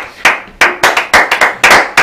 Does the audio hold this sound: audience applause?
yes